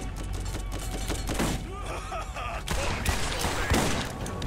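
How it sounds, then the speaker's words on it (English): Dense gunfire and rocket blasts aimed at the player in Borderlands, loud continuous rapid shots and thuds layered into a chaotic barrage with no pause. "Who is shooting rockets at me?"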